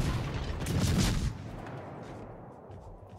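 Tier VIII Japanese cruiser Shimanto fires a heavy naval gun salvo in World of Warships, a loud close boom that rolls off into a fading rumble over about a second.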